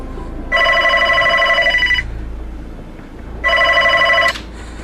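A telephone rings in two loud electronic trilling bursts separated by a pause of about a second and a half, close and clear over quiet room tone.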